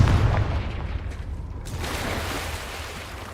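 A Confringo fire-blast spell bursts in the Hogwarts Legacy video game, one loud booming explosion at the start that rumbles and slowly fades into a hissing tail.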